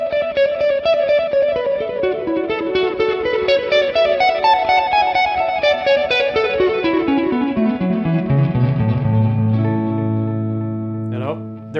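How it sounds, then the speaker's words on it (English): An electric guitar played softly with a clean tone through a 1967 Sound City One amp capture, washed in very long-tail delay and echo-chamber reverb; descending melodic lines cascade and overlap, ending on a sustained, ringing low note. "So it's a very long tail delay, just to give me that."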